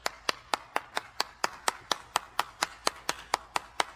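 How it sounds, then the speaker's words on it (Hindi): At a political debate in India, a slow, evenly spaced series of single sharp claps rings out, about four per second, fairly close and alone without talk. "तालियां आपके पूर्वजों के लिए"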